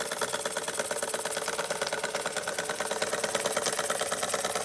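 A Bing toy vertical steam engine runs close by, with a rapid, even mechanical chugging and whirring that holds steady throughout and has no talk over it.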